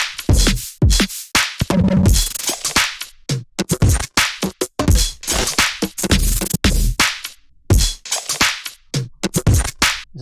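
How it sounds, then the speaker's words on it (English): Punchy electronic drum loop from the main drop of a music track, with loud snappy hits, crisp transients and choppy stuttering rhythm in a dense, repeating pattern, no talking. "Here's the main drop drums."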